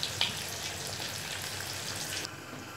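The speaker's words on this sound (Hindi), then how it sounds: "फिश फ्राई कुक हो रहा है, ठीक कुक हो गया" Fish frying in a pan in an Andhra home kitchen, a steady soft hiss and sizzle of oil running throughout, fairly quiet and close, with no one talking.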